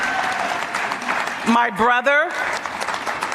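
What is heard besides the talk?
audience applause at awards dinner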